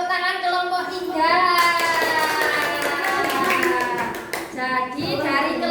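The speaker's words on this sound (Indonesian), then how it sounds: "Tepuk tangan kelompok 3." A class of children claps for a student group during a classroom session, a dense patter of hands that swells after the first second and runs on, with children's voices and chatter mixed through it.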